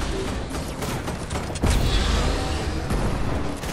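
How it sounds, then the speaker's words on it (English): Gunfire crackles in a Fortnite squads match, a rapid volley of shots followed by a heavier burst and rumbling impact midway, dense and close, with scattered clanking game sounds around it. "There's a guy shooting."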